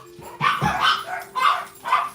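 Dogs in a home bark in three or four close, loud barks spaced about half a second apart, with a faint steady hum underneath.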